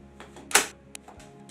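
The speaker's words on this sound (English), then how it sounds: "I'm going to insert it into the Perkins brailler," A Perkins brailler loaded with sticky back plastic gives a few sharp mechanical clicks and one louder clunk, spaced irregularly and close by, with quiet pauses between them.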